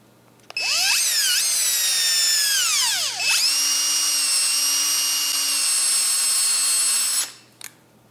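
A power drill whines loudly and steadily for several seconds while boring a hole for a shift cable on a TW400 motorcycle, its pitch sweeping down and back up as it bites in, then stopping abruptly.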